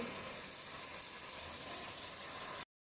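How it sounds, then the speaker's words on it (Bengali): Spices being fried in a pan over a medium flame, a steady, bright, hissing sizzle that carries on evenly at close range and then cuts off abruptly, with no talking. "সবগুলি মশলা একটু কষিয়ে নিই"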